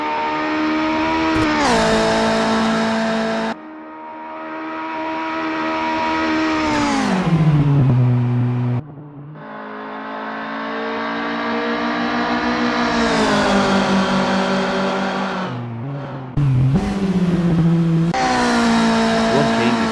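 A Volkswagen Golf Mk1 racing on track in the Assetto Corsa sim, its engine revving up and dropping with repeated gear changes, and tire squeal mixed in, loud and close with no talk.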